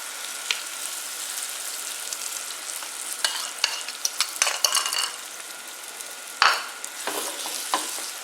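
Beaten eggs poured into a frying masala and stirred, giving a continuous crackling sizzle under clinks and scrapes of a spoon against the pan, close up and without speech.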